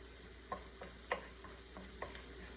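Butter melting in a pan before crawfish tails go in, a soft steady sizzle under a quiet hiss, with a few light taps of a utensil against the pan.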